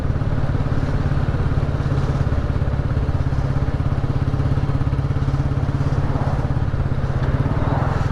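A Royal Enfield Classic 350 motorcycle on a Sunday ride gives a steady, close, loud single-cylinder throb that runs without a break, with no voices.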